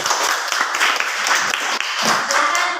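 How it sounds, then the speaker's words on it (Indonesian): Classroom applause for a student group after their presentation in an Indonesian religious-education lesson: dense, steady clapping from many hands fills the room for a few seconds, close and fairly loud with no talk over it. "Mari kita beri aplaus sama-sama."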